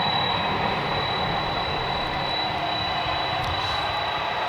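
A UPS Boeing 767 heavy jet departs Dallas/Fort Worth airport at night, a steady broadband engine roar with a thin high whine above it, constant and loud, with no talk.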